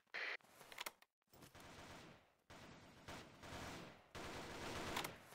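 Rapid bursts of video game gunfire crackle in several volleys, fairly faint, separated by short gaps.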